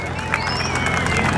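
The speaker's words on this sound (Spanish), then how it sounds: "¡Venga, fuerte el aplauso!" Rodeo crowd in San Antonio applauding and cheering for a rider from Rancho Los Destructores, a dense steady wash of clapping and crowd noise with an announcer's voice over it.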